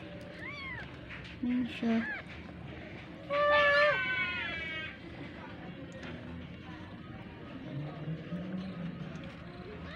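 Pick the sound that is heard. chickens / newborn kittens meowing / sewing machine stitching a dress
newborn kittens meowing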